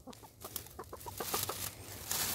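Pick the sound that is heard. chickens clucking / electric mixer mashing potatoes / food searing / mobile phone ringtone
chickens clucking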